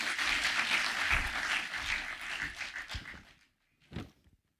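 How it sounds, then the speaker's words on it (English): Audience applause at a Kenyan forum on ending illicit brew, a dense burst of clapping that fades out, followed by a brief short flurry after a pause. "Let's give him another round of applause, please."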